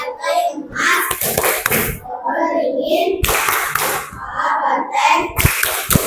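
Children doing Tepuk Pancasila, a rhythmic classroom hand-clapping chant, with bursts of sharp claps in a patterned beat mixed with voices speaking and chanting close by.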